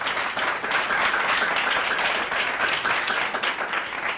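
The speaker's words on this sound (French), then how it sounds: "Applaudissez encore très fort pour vous-même." Sustained audience applause for high school students at an interschool Holocaust presentation contest, a dense, steady wash of many hands clapping without pause.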